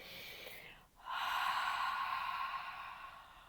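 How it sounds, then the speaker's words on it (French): A slow, throaty exhale in ujjayi pranayama, the open-mouth 'ha' breath used to fog a mirror, heard close and alone after a short pause, as a long steady airy rush that fades gently. "vous allez expirer comme si vous vouliez faire le son ha ou comme si vous vouliez faire la buée sur le miroir aussi"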